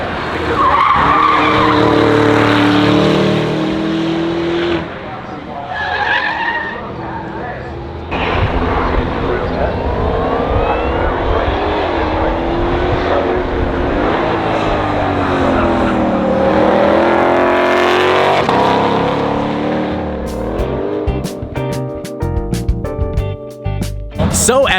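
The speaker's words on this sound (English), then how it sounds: "So epic to see all the supercars go up the hill climb." Supercars, a Zonda among them, racing up a hill climb: loud engine roars rise and fall as the cars pass, tires squeal and skid, and people talk over the noise.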